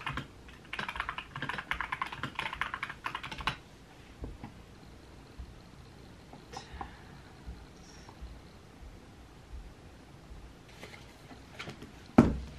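Typing on a computer keyboard while writing a short romance story, a dense burst of quick clicking keystrokes early on, then sparse isolated key taps and a sharp knock near the end, close and fairly quiet.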